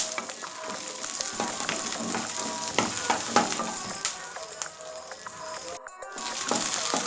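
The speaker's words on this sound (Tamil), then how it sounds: "நல்லா மீடியம் ஃப்ளேமில் வச்சு நம்ம லைட்டாக கலர் வர வரைக்கும் இதை வதக்கிக்கலாம்." Onions and about twenty garlic cloves sauté in oil over a medium flame, a continuous close crackling sizzle broken by frequent clicks of stirring, with a brief near-silent gap toward the end.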